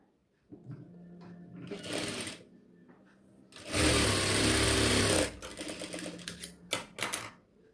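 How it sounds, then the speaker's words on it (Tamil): A sewing machine stitches folded fabric for an apron pocket in several separate bursts, first a medium run, then a longer and louder one, then short choppy spurts close by. "ஒரு மடி மடித்து ஒரு ஸ்டிச் பண்ணிக்கிறேன்"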